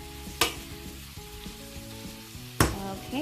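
Veal, bacon and apples frying in a pan: a steady soft sizzle with two sharp clatters of ingredients or utensil hitting the pan, close by, no speech.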